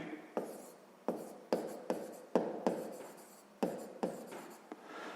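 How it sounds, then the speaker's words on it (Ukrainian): A pen writing on paper, a close, quiet series of scratchy strokes in irregular bursts, each starting with a sharp tap and fading off. "Ну, давайте так і запишемо."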